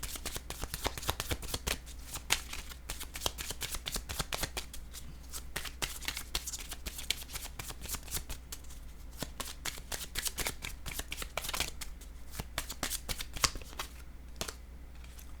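Oracle cards are shuffled by hand during a card reading: a steady run of soft, close riffling and flicking taps that continues without pause.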